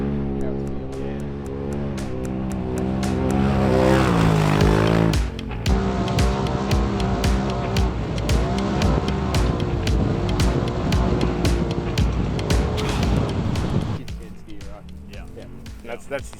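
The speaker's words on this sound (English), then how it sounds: "Here come the kids down the track in the 688 car." The 688 race car drives down a dirt track, its engine droning and then swelling into a loud, rising roar as it passes. Voices can be heard nearby.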